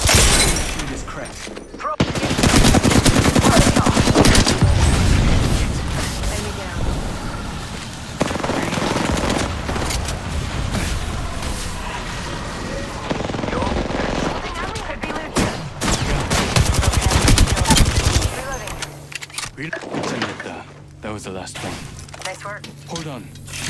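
Gunfire in the video game Apex Legends: loud, sustained bursts of automatic weapon fire with crackling impacts and shattering sounds, nearly continuous over many seconds, with brief pauses and a player voice at times.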